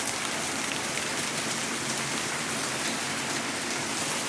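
Steady rain pattering on a surface on a São Paulo afternoon, a dense continuous hiss with no voices.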